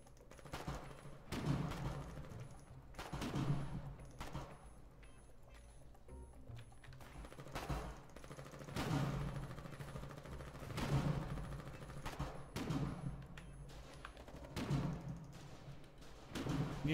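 Gunfire in the video game Foxhole, repeated bursts of muffled distant shots and thuds recurring every couple of seconds in a steady battle rhythm.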